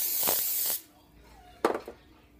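A broad hiss of cooking spray onto a pan for under a second, then quiet, followed by a few short clattering knocks nearby.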